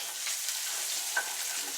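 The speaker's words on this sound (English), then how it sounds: "Here's sizzle." Thinly sliced garlic sizzles steadily in a pan for pasta carbonara, a close, even frying hiss with one small pop and no talking.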